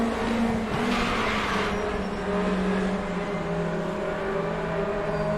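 A racing car in the RaceRoom sim game brakes on the Brands Hatch Indy circuit, its loud, continuous engine whine dropping in pitch as it slows, with no one speaking.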